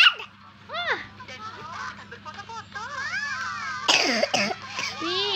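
A child coughs amid lively, high-pitched talk from a young child and an adult, with a cartoonish sing-song voice running throughout.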